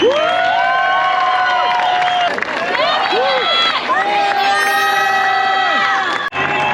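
A large crowd cheers loudly and continuously at the 2022 ISA World Surfing Games opening ceremony as the Ukrainian team is welcomed, with overlapping shouts, whoops and excited voices throughout.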